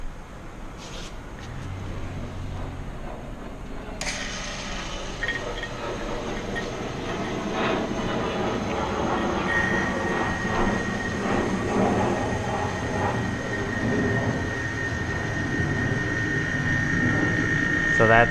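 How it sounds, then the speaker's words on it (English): A vacuum pump evacuates the air-conditioning system of a BMW E46 330i/325i during evaporator replacement, giving a steady mechanical hum with a faint whine that begins a few seconds in and stays level. "So what I'm going to do is run the pump for a few minutes, see if we're pulling vacuum"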